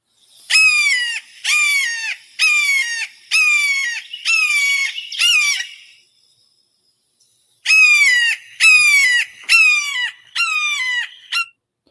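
Red-shouldered hawk giving a loud, repeated series of descending, squealing calls, about six close together, a pause of a couple of seconds, then another run of five or six, all near and clear with no talking.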